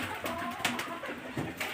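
Pigeons cooing on a rooftop pigeon loft, soft low coos repeating close by amid a busy ambient hum, with faint bird chatter around.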